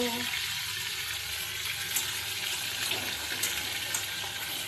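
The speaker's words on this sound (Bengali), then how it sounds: "আজকে মাছ ভাজাই দেখো" Pieces of fish frying in oil in a home kitchen, a constant, rushing, watery sizzle with small pops that runs steadily throughout.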